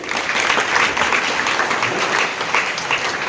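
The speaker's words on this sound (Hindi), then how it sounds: "एक बार ताली बजाओ काफी।" An audience at a spiritual talk clapping together, a dense, loud and steady burst of applause that holds evenly from start to finish with no voices on top.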